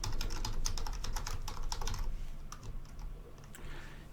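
Rapid clicking keystrokes on a computer keyboard while entering MQL code in the MetaTrader 4 editor, dense and close for about two seconds, then thinning to a few scattered taps over a steady low hum.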